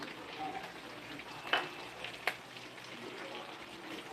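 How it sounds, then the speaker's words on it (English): Shrimp frying in a pan on high heat, a constant close sizzle with two sharp clinks of a utensil against the pan. "We're going to cook first the shrimp. It cooks easy, especially in high heat."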